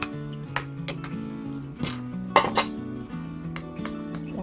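Hotdog pieces are stirred into an egg and cornstarch mixture in a bowl, with a utensil clinking and scraping against the bowl in quick, uneven strokes, fairly close and with no talking.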